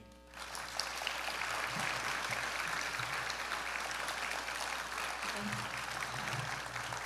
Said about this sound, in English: let's give Conwar a big round of applause